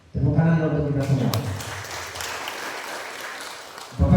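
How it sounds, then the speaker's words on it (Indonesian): Applause breaks out across a room at a credit union annual members' meeting in Pontianak, following a voice at the start, then settles into a steady wash of clapping before fading near the end. "Tepuk tangan untuk kita semua."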